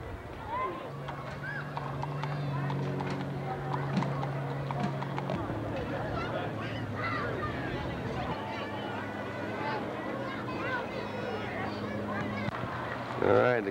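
Horses' hooves clip-clop during a longhorn cattle drive, with scattered hoof sounds and an occasional whinny under a steady drone, while someone narrates over a restless crowd.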